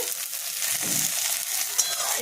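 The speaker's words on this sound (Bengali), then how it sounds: "এই সবজিগুলো আমার মোটামুটি লাল লাল করে ভাজা হয়ে গেছে।" Vegetables for Bengali shukto frying in oil until reddish, a steady hissing sizzle close by with soft stirring, one brief tap near the end.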